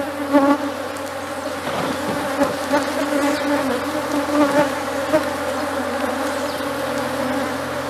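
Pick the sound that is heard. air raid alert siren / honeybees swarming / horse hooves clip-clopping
honeybees swarming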